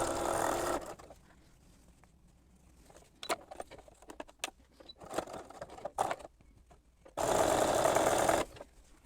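A sewing machine stitches quilt block fabric in two loud, steady bursts at the start and end, with quieter handling and rustling noises between them.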